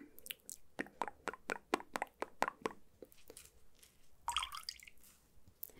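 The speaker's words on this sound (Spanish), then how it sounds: "voy a coger otro poquito de agüita" Water dripping and splashing lightly during a relaxing facial skincare routine, a run of small close wet plinks followed by a soft squishy trickle, quiet and intimate.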